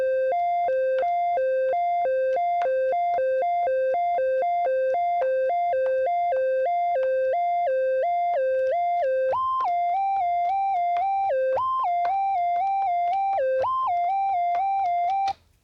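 A Korg Electribe EA-1 synthesizer plays a repeating two-note sequenced pattern with bright, buzzy harmonic tones, loud and alone, shifting pitch partway through as the patch is adjusted, then cutting off abruptly at the end.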